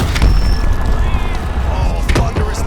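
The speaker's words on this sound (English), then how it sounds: "Oh, thunderous leg kick." A heavy leg kick lands in the video game UFC 4, a deep, loud thud over crowd and arena noise, as a commentator speaks.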